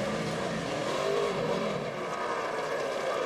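NASCAR Sprint Cup stock car at Homestead-Miami Speedway accelerating out of pit lane, a dense continuous roar of engine noise with crowd and track ambience, steady and loud throughout.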